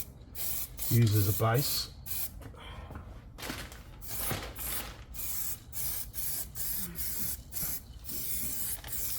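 Zinc weld-through primer is sprayed in a series of short, hissing bursts with brief pauses between them, close and fairly loud, while a voice speaks briefly.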